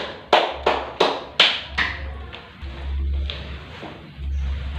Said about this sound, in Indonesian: Mari berikan tepuk tangan kelompok 1.